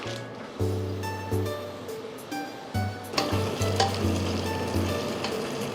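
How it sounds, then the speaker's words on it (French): Bacon sizzles and pops in a saucepan with pasta, a constant frying hiss under intermittent low humming tones and a few clatters. "Et donc là on va juste laisser bien cuire le bacon."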